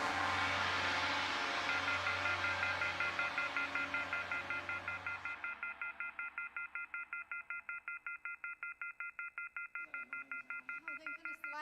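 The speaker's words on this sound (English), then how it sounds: "Sounds like a phone is off the hook." A telephone left off the hook: noisy rumble fades into a loud, rapidly pulsing off-hook warning tone that repeats steadily, with a brief voice-like warble near the end.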